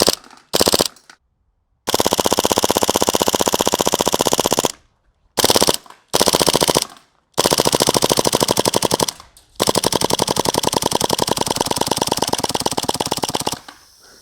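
Airsoft gun firing full auto from a drum magazine, several long rapid bursts of dense, loud ticking separated by short silent gaps, alone with no talk, until the gas runs out.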